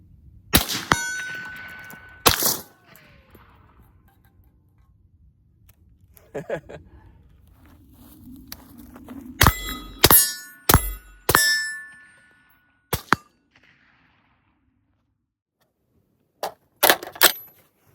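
Suppressed rifle shots ring off steel targets in a series of sharp metallic clangs, some single and some in quick pairs, with quiet gaps between them and a faint voice at one point.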